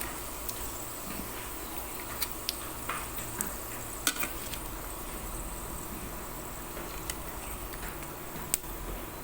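Tofu deep-frying in hot oil, a steady bubbling sizzle that runs throughout with a few sharp pops and crackles, close and moderately quiet.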